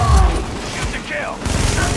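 Gunfire bursts echo through a firefight in The Division, a loud opening shot followed by scattered rattling fire beneath shouted voices.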